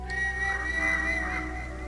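A video game character whistles a single sustained, slightly wavering note in the stealth game Aragami, clear and steady against a low background hum.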